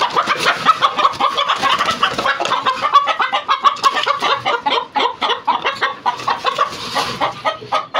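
A rooster clucks rapidly and continuously, close by, with busy, restless chatter and no pauses.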